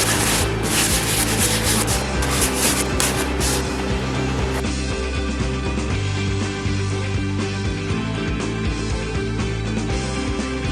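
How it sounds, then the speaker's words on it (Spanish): Steady, loud abrasive rubbing as a wooden piece is sanded straight, a continuous gritty scrape running the whole time with no talk. "Luego lijamos esta pieza correctamente para que nos quede bien recta"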